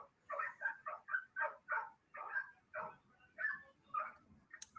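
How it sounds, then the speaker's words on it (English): Several dogs barking in a steady series of about ten sharp barks with short yips mixed in, fairly faint and distant, with no talk over them. "the dogs are barking."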